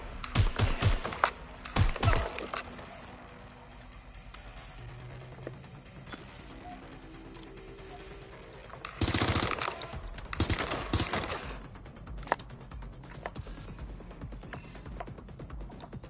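Bursts of gunfire in the video game Watch Dogs Legion, with rapid clusters of shots and loud sharp cracks separated by quieter stretches of game ambience.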